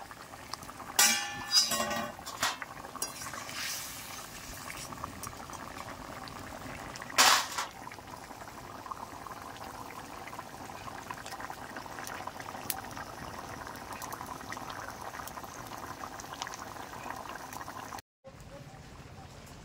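An egg curry broth simmers steadily in a pot as fried eggs are added, with low bubbling throughout, a few louder clatters and splashes early on, and faint speech in the background.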